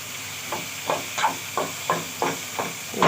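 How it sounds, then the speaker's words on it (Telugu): Squeezed ridge gourd peel frying in a pan, with a steady hiss of frying under a series of regular stirring scrapes, about one every third of a second, close and fairly loud, with no voices. "గట్టిగా నీళ్ళన్నీ పిండేసి వేయండి. ఇది బాగా వేగాలి."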